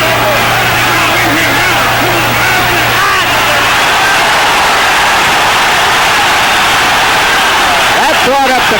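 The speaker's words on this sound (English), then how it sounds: "That brought up the crowd." A boxing crowd roaring during a heavyweight fight, a loud, dense wall of noise that swells and holds throughout, with a commentator talking over it.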